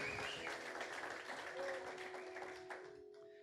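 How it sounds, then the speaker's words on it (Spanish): Audience applause after a testimony at a church service, a steady wash of clapping that runs for a few seconds before thinning out, with a faint tone held underneath. "Un aplauso, ¿sí? Para esta historia, qué tremendo."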